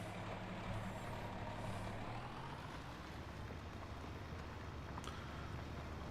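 John Deere tractor engine driving in Farming Simulator 19, a steady, low rumbling drone that runs throughout at moderate loudness, with a faint hiss and a brief high click near the end, and no talking.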